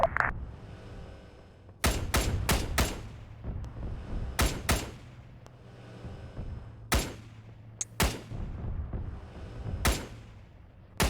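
Tank shell hits in Arma 3 land as sharp, loud booming cracks spread irregularly over several seconds above a low rumbling background, with no speech.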